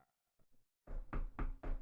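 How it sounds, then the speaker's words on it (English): Four firm knocks on a wooden surface, evenly spaced and close, after a few faint taps, with no talking. "I did knock on the wood"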